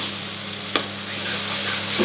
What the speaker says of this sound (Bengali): এটাকে এখন কষাতে হবে যাতে যখন কড়াই থেকে উঠে আসবে বা তেলটা ছেড়ে দেবে